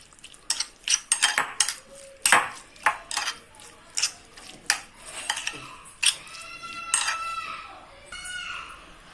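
Salted chicken pieces are mixed in a bowl for popcorn chicken, with a run of close, irregular clinks and taps of a utensil against the bowl, faint and alone.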